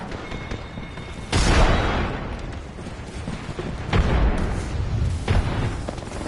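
A frag grenade detonates in Apex Legends, landing as a loud broadband boom around a second in, with further heavy blasts and gunfire-like bursts rolling through a dense game mix and no voices.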